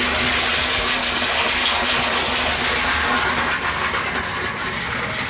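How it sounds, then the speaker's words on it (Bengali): Water gushes steadily through a newly connected pipe from an overhead reserve tank, a loud continuous rushing flow with a faint low hum beneath, with no talk. "এখন খালি চালিয়ে দেখবো জল আসছে কিনা।"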